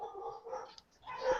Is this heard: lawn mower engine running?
no